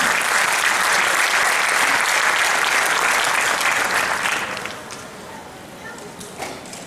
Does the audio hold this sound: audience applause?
yes